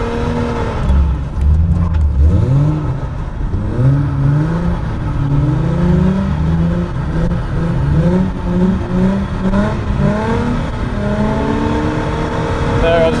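A car drifts on very slippery ice under throttle modulation, its engine rising and falling in steady waves of revving and whir at close range, with someone talking over it.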